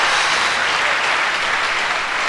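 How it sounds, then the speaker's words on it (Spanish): A church congregation bursts into loud, dense applause at a sermon, a close and continuous roar of clapping with no gaps. "Dele un aplauso al Señor."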